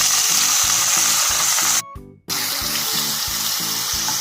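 Onions fry in oil in a pan with a dense, loud, continuous sizzle and a pulsing rhythmic thump underneath, broken by a brief near-silent gap before the sizzling resumes.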